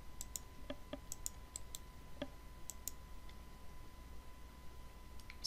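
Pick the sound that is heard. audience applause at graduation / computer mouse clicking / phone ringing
computer mouse clicking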